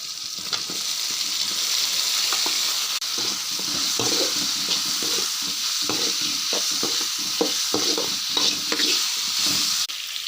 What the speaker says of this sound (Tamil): இப்போ நம்ம காலிஃப்ளவரை போட போகிறோம்.